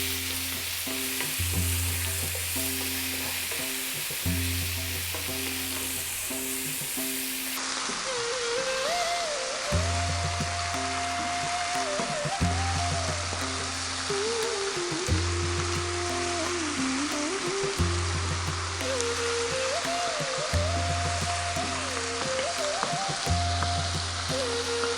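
Cooked chickpeas with fresh chili fry and get stirred almost constantly for a creamy coconut vegan curry, producing a loud steady sizzle with regular scraping strokes of a spoon against the pan, close up and without speech.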